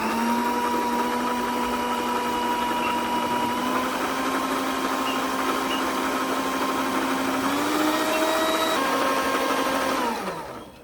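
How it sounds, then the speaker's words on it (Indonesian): An electric mixer beats buttercream at high speed, a loud continuous whirring motor hum with a steady pitch that shifts upward near the end before winding down and cutting off, no voices. "Mixer lagi 5 menit."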